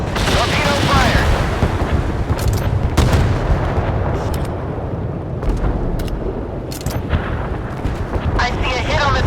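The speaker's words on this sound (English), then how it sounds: "Torpedo fired." Torpedo launch and impact in the Force of Warships naval video game, with loud booming blasts and rumbling explosions piling up over several seconds, mixed with game effects and intermittent voices.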